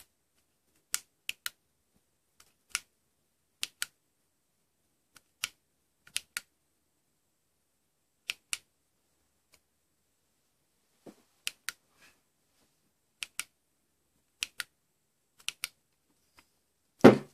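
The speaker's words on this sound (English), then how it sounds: "You have to continuously cycle through the button with each individual click" Button of a Bushnell flashlight being clicked again and again, crisp isolated clicks, often in quick pairs, spaced out over near silence and close to the listener.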